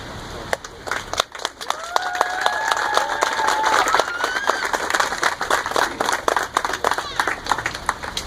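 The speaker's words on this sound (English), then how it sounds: "I know you guys are probably getting tired of clapping" A crowd at an outdoor SniperFi Foundation cross-country ride event breaks into loud, sustained clapping mixed with cheers and whistles, with voices talking over it throughout.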